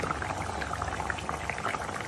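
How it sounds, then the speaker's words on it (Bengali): A pot of curry bubbles at a vigorous, continuous boil, with dense popping and gurgling heard up close and no voices. "তরকারিটা পুরো ফুটছে দেখো"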